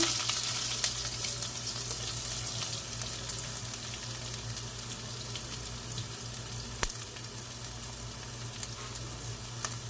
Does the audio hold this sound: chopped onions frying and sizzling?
yes